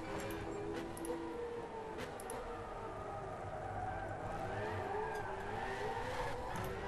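Cars racing in Gran Turismo 6 at Twin Ring Motegi, a Mazda 787B sliding wide, with a continuous loud engine drone and shifting tyre-squeal tones throughout.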